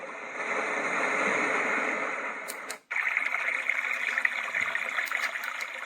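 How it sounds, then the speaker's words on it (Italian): A baby white noise machine, a HOMGEN model, plays a thunderstorm track: steady broadband hiss like pouring rain, briefly cutting out near the middle before resuming at a similar level, with no voices. "Questo è un temporale"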